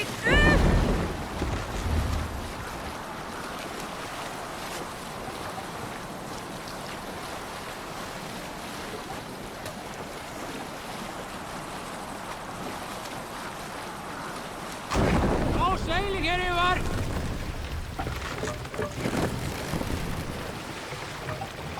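Viking longship sailing on open sea in Assassin's Creed Valhalla, with steady wash of waves and wind against the hull, a heavier splash surge near the start and again about two-thirds through.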